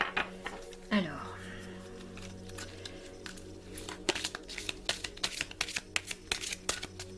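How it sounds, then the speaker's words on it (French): Oracle cards are shuffled by hand, producing soft rapid riffling and patter sounds that build toward the end, quiet and close. "je vais battre les cartes, je vais en tirer une au hasard"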